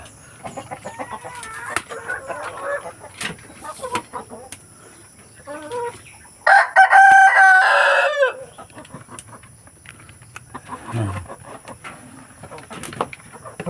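Rhode Island Red chickens on a farm, with intermittent clucking throughout and one loud rooster crow near the middle, close by and fairly clear against a quiet rural background.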